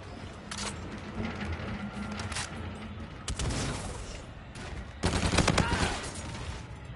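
A trench gun fires in a Call of Duty match in bursts of gunfire, with several sharp volleys among other in-game shooting, fairly faint overall.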